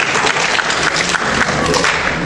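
An audience claps at a Katsucon fan-convention panel on Creepypasta, a dense, steady wash of applause that fills the whole stretch without a break and with no clear talk over it.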